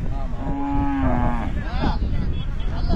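A cow gives a single drawn-out moo, steady and fairly close, at a cattle fair, followed by quieter rustling and farmyard background noise.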